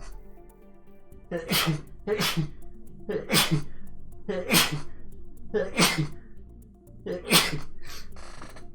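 A person sneezes six times in a row, each sneeze a sharp burst spaced about a second apart, close and loud over faint background noise, in a bout during a card game livestream.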